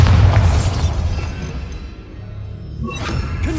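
Bombarda blasting spell explosion in Hogwarts Legacy, a loud booming blast at the start that decays into a long low rumble and debris, with a smaller crash near the end.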